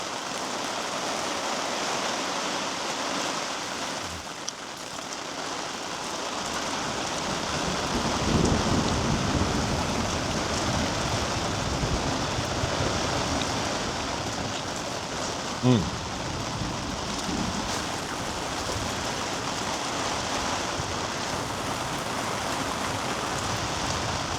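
Steady rain drums on a car during a thunderstorm at an Australian car-camping site, a continuous wash of patter with a couple of brief louder thumps, no clear thunder roll standing out.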